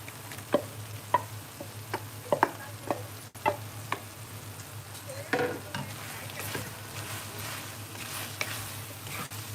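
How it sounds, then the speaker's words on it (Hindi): Fried soybeans tumble into pasta masala in a pan, followed by a run of light spatula taps and scrapes, then softer steady stirring over a faint low hum, fairly quiet and close. "इसके बाद मैं ये सोयाबीन जो मैं फ्राई करके रखी थी वो डालूंगी।"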